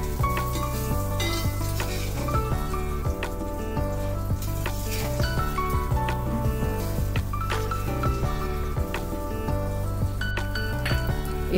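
Eggplant slices frying in oil for Bengali-style begun bhaja, a steady close sizzle and hiss running under background music throughout.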